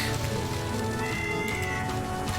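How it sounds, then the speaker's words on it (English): A cat in the video game Touhou 11: Subterranean Animism meows and yowls over dense, continuous game music and effects. "And we've got the cat again."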